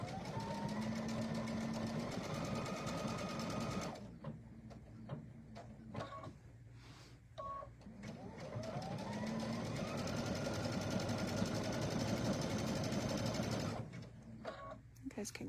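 A Baby Lock Anthem sewing machine stitches with an open toe foot, its steady motor hum and needle rattle running loud and continuous, pausing briefly mid-way with a few clicks while the operator pivots, then resuming.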